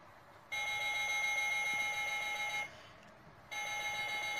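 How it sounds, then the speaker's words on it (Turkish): A steady electronic alarm from a digital wall clock beeps in two sustained bursts with a short pause between, fairly faint and alone. "Alarmımız çağırdı."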